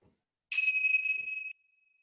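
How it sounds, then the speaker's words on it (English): A single bell tone rings out clear and sustained for about a second in a quiet yoga class setting, ending a resting pose, with a soft decaying ring and silence around it. "Once you hear the bell, just bring yourself up to a seated position."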